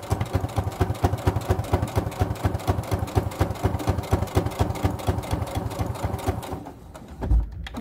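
A sewing machine runs a steady top stitch close to the fabric edge while making a mini wallet gift card holder, its rapid even needle rhythm loud and near for about six seconds before it stops and a soft clunk follows.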